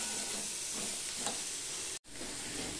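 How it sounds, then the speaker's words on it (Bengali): Onions and potatoes sizzle steadily in a pan with turmeric and salt, a dense, close, continuous frying hiss broken by a very brief dropout near the end, with no voices. "পেঁয়াজ আলু সব ভাজা হয়ে গেছে"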